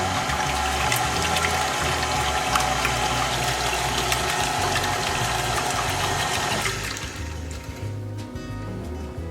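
A stand mixer churns cream into homemade butter after the fat has separated, giving a steady wet sloshing like water being stirred, loud and continuous with a motor hum beneath, easing slightly near the end.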